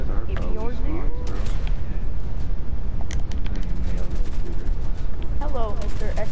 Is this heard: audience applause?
no